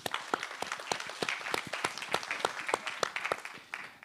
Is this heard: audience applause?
yes